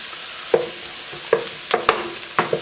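Onions for a French onion dip being cooked down in a pan, a spoon scraping and stirring in a few separate strokes over a low, steady sizzle, close and fairly loud.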